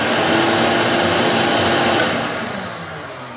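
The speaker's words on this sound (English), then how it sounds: "watch when we turn the vacuum cleaner on" A vacuum cleaner runs with a loud, steady whirring drone close by that starts to fade toward the end, with no voices over it.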